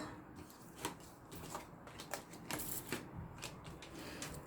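Tarot cards handled and laid out for a five-card spread, giving close, soft shuffling and rapid papery flicks with sharper snaps as cards are set down, with no talk.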